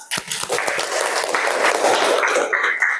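An audience claps together in sustained, dense applause that continues steadily from start to finish, loud and close, with a few sharper individual claps at the very beginning.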